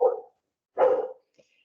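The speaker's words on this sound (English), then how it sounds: "So you hear dogs barking" A dog barks twice nearby, two separate loud barks with a pause between them, followed by a faint short yelp in an otherwise quiet indoor setting.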